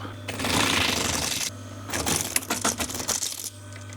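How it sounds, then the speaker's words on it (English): A sewing machine runs two stretches of stitching along an auto upholstery seam, a steady close whirring and rattling with a brief pause between runs. "I'm going to stitch from the other side now"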